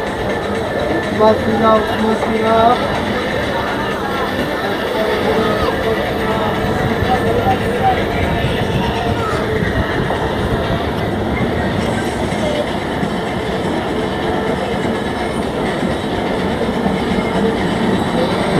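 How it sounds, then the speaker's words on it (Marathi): A Janshatabdi Express train rolls steadily along after departing Diwankhavati, with a continuous rumble and clattering wheels, loud and close throughout, with voices faintly mixed in. "आता आपली ट्रेन निघाली आहे दिवाणकवटीवरनं"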